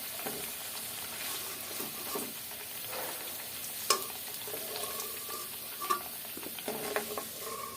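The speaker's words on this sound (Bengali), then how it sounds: "একদম লাল লাল করে আলুটা ভেজে নেবেন" Potatoes fry in hot oil with a steady, close hiss and crackle, interrupted now and then by light stirring clinks and scrapes, with no one talking.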